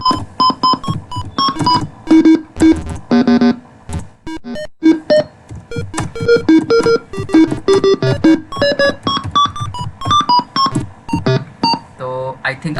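Beeping virtual piano notes generated by a C program and triggered from a computer keyboard, a rapid irregular run of short electronic tones at varying pitches, loud and close.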